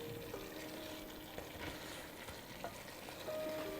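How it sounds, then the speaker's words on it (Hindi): Spiced chicken fries and is stirred in a pan for biryani, a quiet continuous sizzle with occasional soft scrapes and taps from stirring, and no voices. "हम चिकन को 2-3 मिनट पका लेंगे जिससे कि मसाले अच्छे से पक जाएं। इसे हम बीच बीच में हिलाते रहेंगे।"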